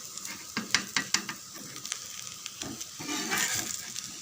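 An instant wheat and rava dosa cooks on a hot pan, giving a soft steady sizzle broken by sharp clinks and scrapes from the spatula while it is turned. No one speaks.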